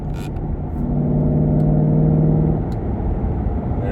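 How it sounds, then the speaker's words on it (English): A Ford Mustang GT fitted with an Armytrix exhaust in quiet mode gives a muffled low engine rumble that swells briefly under a light blip of gas, then eases back down, with no talk. "I'm gonna give it a little bit of gas, and then I'm gonna put quiet mode on so you can hear the difference"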